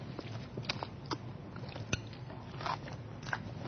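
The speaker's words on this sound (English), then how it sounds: "This is the coleslaw. Okay, I'm going to have a little bit of this and see what it tastes like." Someone bites into crunchy coleslaw made with coconut and raisins, producing a string of close, crisp crunches and wet chewing clicks at an uneven pace, with no talking.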